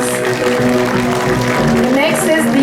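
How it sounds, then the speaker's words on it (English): Applause from an audience greeting award winners at a school orientation day ceremony, a steady crowded clatter of clapping held at an even level with talk over it. "all of you please shower them with applause"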